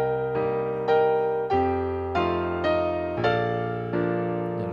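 Piano playing the Howl's Moving Castle theme, a short run of chords and melody notes struck in an even, moderate rhythm with sustained bass beneath, close-miked and without any voice.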